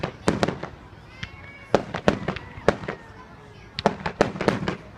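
Thursday-night fireworks burst in rapid sharp bangs and crackles, clustered in several volleys with brief pauses between, loud and fairly close, with a faint whistle trailing some blasts.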